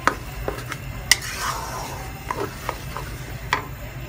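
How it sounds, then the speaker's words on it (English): Sambal for a sardine dish stir-fried in oil, with sharp scrapes and clinks of a utensil against the pan at irregular intervals over a faint, low sizzle. "So fry your sambal with the same oil ah."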